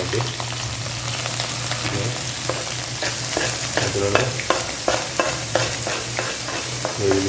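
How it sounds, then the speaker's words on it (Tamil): Onions, green chillies and mint sizzle and fry in a pan for a potato masala while a spoon stirs and scrapes in steady repeated strokes, close and continuous, with a few brief words spoken. "இதோட வெங்காயம் பச்சை மிளகா கொஞ்சம் அந்த புதினா நண்பா அதை மிக்ஸ் பண்ணிடலாம்"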